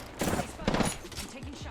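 Gunfire in Apex Legends, a short volley of rapid shots in two quick bursts, heard behind game sounds and moderately loud.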